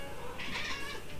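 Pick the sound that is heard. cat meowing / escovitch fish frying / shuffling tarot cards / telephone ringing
cat meowing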